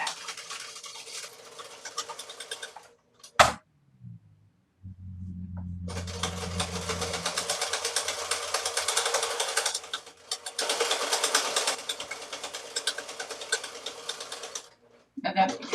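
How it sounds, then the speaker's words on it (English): Electric sewing machine stitching a pillowcase seam with short back stitches, with bursts of rapid mechanical whirring and needle chatter separated by pauses and handling noises. "now that I'm at the sewing machine, I'm going to give it a little back pat."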